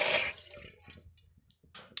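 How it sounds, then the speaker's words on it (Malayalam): Milk is poured into a pan of boiling water for tea, giving a short splashing gush at the start that fades into faint bubbling and a few soft drips and clinks nearby. "അതിലേക്ക് നമുക്ക് പാലൊഴിച്ച് കൊടുക്കാം."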